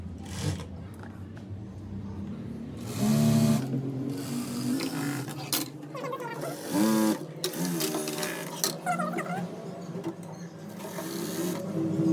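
A sewing machine stitches sharara lining in quick, whirring runs that stop and start several times, with short pauses between bursts of rattling needle action, close and fairly loud.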